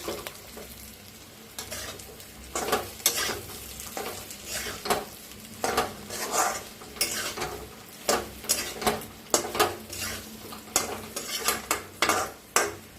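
Chilli masala roasts in a steel pot while a spoon scrapes and clacks against the metal in repeated strokes over a soft frying sizzle, close and fairly loud.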